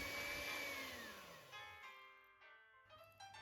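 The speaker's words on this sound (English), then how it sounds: "the caramel paste needs to be whipped well with a hand mixer" An electric hand mixer whips caramel paste: a close, whirring motor tone slides down in pitch as it winds down, followed by quieter intermittent whirs and faint clicks.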